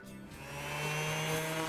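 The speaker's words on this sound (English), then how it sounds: "I started out with the orbital sander" An orbital sander runs against a painted CNC-carved sign, a continuous buzzing hum with gritty abrasive hiss, close and moderately loud.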